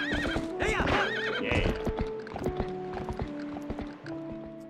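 A horse in Zelda: Twilight Princess gives a loud, wavering neigh over rapid clip-clop hoofbeats as it gallops, game music tones sounding underneath.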